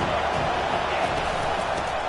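Steady roar of a packed stadium crowd at a college football game on third and long, a dense continuous wash of noise holding at an even loud level throughout.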